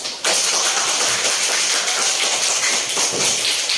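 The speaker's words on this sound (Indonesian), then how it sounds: "Kita beri aplaus." A classroom audience at an Indonesian university teacher-training session applauds after a group presentation, dense steady clapping starting abruptly and continuing loudly throughout.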